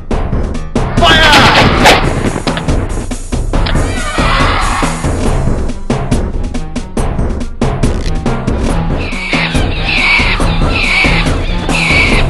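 Volleys of gunfire from massed troops in the PC strategy game Warhammer SOTHR, loud and dense, with repeated crackling shots layered over battle noise and shouted orders throughout.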